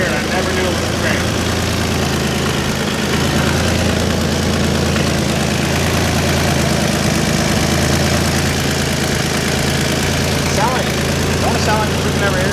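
A 700hp Infiniti G35 with a turbo idles loudly and steadily up close, its low rumble holding throughout with slight rhythmic unevenness, while people talk over it.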